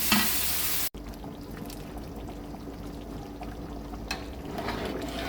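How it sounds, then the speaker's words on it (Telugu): Curry fries in a pan, crackling and sizzling steadily at close range. It opens with a brief louder rush, then drops after a sharp cut into a continuous low frying hiss, with no talking. "ఇప్పుడు ఇది పచ్చివాసన పోయేదాకా వేయించుకోవాలి."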